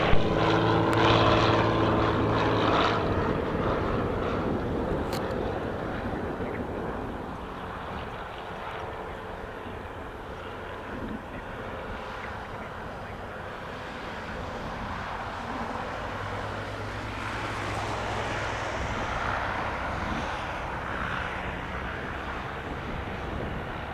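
A Cirrus propeller airplane lands at Spirit of St. Louis Airport, its steady engine drone holding moderately loud and fairly close throughout, with no talk over it.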